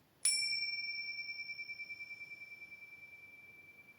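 A single bell rings out once with a bright strike during yoga nidra, then its tone hangs and slowly fades, shimmering gently in a quiet room.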